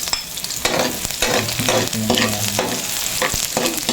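Onion frying in very hot oil while being stirred, a loud continuous sizzle close up with clattering utensil strokes and scrapes scattered throughout.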